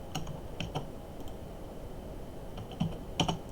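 Typing on a computer keyboard at a command prompt, a few sparse, faint key clicks with pauses between them, ending in a small cluster of taps.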